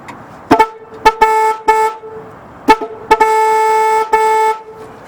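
Newly wired car horns on a 1964 Ford blaring in a series of loud, close honks, some short toots and some longer blasts, with almost no talk.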